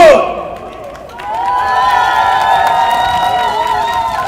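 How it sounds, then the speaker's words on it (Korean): A crowd at an outdoor presidential campaign rally in Cheonan claps and cheers loudly, a dense wash of applause and shouts that swells after a brief dip and carries on, with an amplified voice over it. "자 여러분 다시 한번 큰 박수 보내주십시오."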